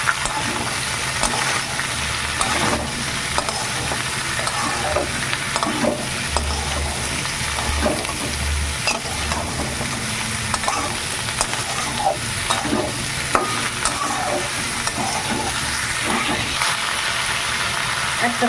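Jackfruit cooks with morola fish in a pan, a constant close sizzle of frying with scraping stir strokes throughout.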